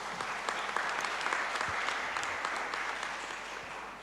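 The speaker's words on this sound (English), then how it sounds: "Please give applause to our speakers." Participants at an international Islamic economics and business conference applaud the speakers, a steady mid-level stretch of many hands clapping that runs evenly throughout with a slight fade near the end.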